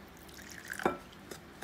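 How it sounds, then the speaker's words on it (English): Water is added little by little to flour for Caribbean-style dumplings, giving one brief splashing pour partway through over a quiet background, with no speech. "We're going to add the water, and we're going to make our dumplings"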